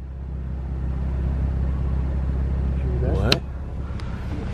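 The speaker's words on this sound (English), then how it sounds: "No, I think that was a car." A car passes outside at night, heard as a low steady rumble that swells to a brief sweeping whoosh before fading, with faint voices around it.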